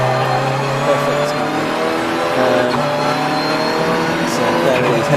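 Audi TT TDI race car coasting down the pit lane at Donington GP during a 750MC Club Enduro, a steady loud engine drone with a faint squeal, heard close.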